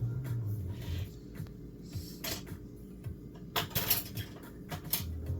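A metal spoon clinks and scrapes against dishes while instant Shin Ramyun noodles are prepared, with several bright, close, irregular taps and rattles scattered over low background hum.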